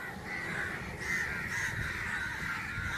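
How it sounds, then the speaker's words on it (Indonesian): Crows caw overhead outdoors, several harsh calls repeating loosely over a background of soft ambient noise. "Gagak di sini masih banyak guys. Nah, ini guys, saya entah ini ada apa nih, banyak gagak di atas saya nih guys."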